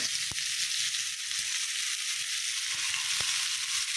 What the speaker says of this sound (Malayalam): ഞാൻ ഇതൊന്ന് വറുക്കാൻ വെച്ചിട്ടുണ്ട്